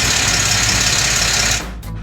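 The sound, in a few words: odd noise from Jeep engine bay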